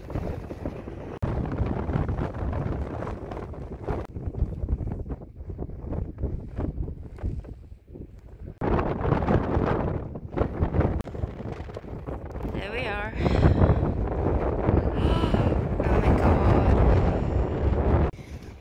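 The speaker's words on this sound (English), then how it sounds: "the wind is also blowing into our backs, so it's kind of pushing us down the mountain" Strong wind buffets the microphone on a cold, exposed Scottish Highland mountain path in autumn, a loud continuous roar with gusts that surge harder toward the end, with people talking briefly.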